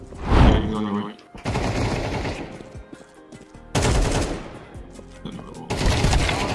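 Video game gunfire in a competitive match with a bomb carrier: bursts of rapid shots alternating with quieter gaps, loud and close, with speech heard over parts of it.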